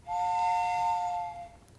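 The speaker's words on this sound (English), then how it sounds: "Aye, the whistle will blow, and they'll march to work." A powerhouse whistle blown as a theatre sound effect: one steady, clear tone held for about a second and a quarter, then cut off, fairly quiet and heard alone.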